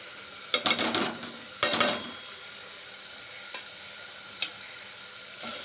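Homemade masala, Kashmiri red chili powder, cumin powder and turmeric being stirred and sautéed in hot oil for veg pulao, with two loud bursts of sizzling and scraping early on, then quieter occasional stirring clinks.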